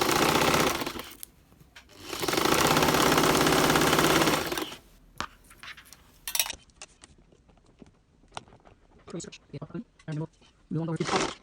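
A sewing machine stitches jersey material in two fast, whirring bursts, close and steady, followed by scattered clicks and fabric handling, with someone talking in between.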